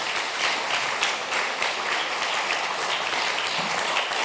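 An audience at a 2024 Southend West and Leigh election hustings claps and cheers, a dense, steady wash of applause that holds at an even loudness throughout with no clear talk on top.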